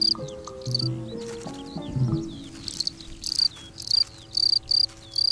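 Male crickets chirp by rubbing their wing cases together, loud repeated high trills in short bursts, joined by a low rising tonal hum in the first half.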